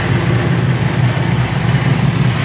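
A Chevrolet Astro van engine idles roughly with no muffler, a loud, close, low rumble with an uneven stumbling pulse that continues steadily throughout.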